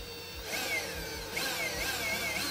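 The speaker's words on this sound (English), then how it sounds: "just mark a spot right here, and then you'll just take a drill bit, drill it out" A drill bit boring a hole through plastic during a winch mount install on a Polaris RZR Pro XP, a steady close whine running the whole time with a couple of brief surges.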